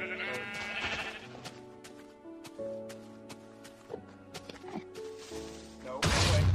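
Sheep bleat in Minecraft over a layered game soundtrack with steady tonal notes, a few short bleats surfacing before a loud burst of noise near the end.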